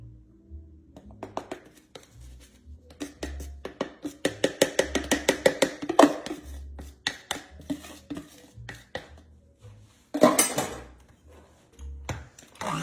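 Cream cheese frosting with powdered sugar and butter being stirred in a bowl, giving a run of quick scraping, tapping strokes against the bowl that come in bursts, close and moderately loud, with no talking.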